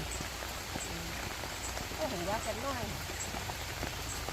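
Rain falling steadily on surfaces in a rural garden, a soft constant patter under the whole stretch, with faint voices and chirps rising briefly in the middle.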